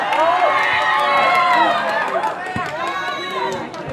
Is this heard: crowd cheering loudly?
yes